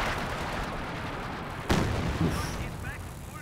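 Pack howitzer barrage in Company of Heroes 2, a single sharp artillery crack followed by a smaller impact and rumbling, heard over ambient battle noise.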